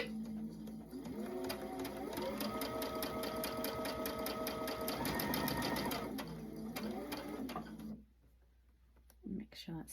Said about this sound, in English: we're just gonna sew these together